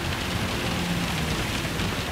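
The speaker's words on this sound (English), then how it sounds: "Oh, it's raining hard." Heavy rain pours in Gran Turismo 7 during a race with a Suzuki Swift road car against Gr4 race cars, a dense, even roar of rainfall with faint engine drone beneath and no voices.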